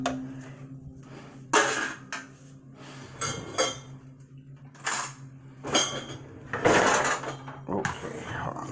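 Cooked turkey pasta is served into a bowl with a series of clinks and scrapes of utensils against dishes, spaced irregularly between quieter pauses, while a person talks through it.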